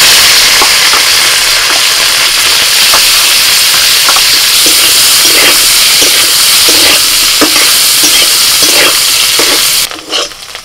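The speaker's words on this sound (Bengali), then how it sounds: "কপি ভাজা হয়ে গেছে" Cauliflower fries in hot oil in a pan, a loud continuous sizzle broken by repeated scraping stirs that runs nearly ten seconds before cutting off abruptly.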